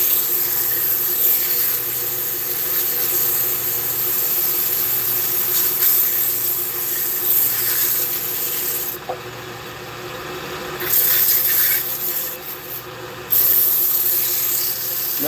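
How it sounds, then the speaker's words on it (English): Steady, continuous rasping of rough sanding on wood, running at an even level throughout, with a few brief pauses and shifts in the scratchy texture. "Now, when I do the rough sanding"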